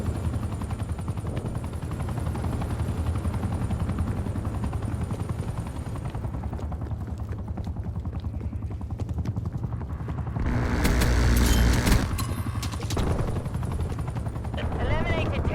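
An attack chopper in Call of Duty Black Ops Cold War on PS5, its rotor drone throbbing steadily throughout, joined near the end by a louder burst that sounds like gunfire or an explosion.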